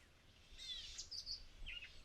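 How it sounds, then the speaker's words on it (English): Gray catbird calls in an overgrown old apple orchard and field: a few faint, scattered high chirps and short warbled notes, fairly distant, with no voices over them. "There's another catbird over there."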